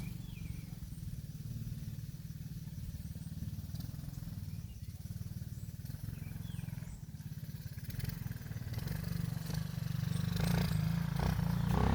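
A motorcycle engine rumbles below, a steady low droning idle that slowly grows louder toward the end, heard from a distance with no talk over it.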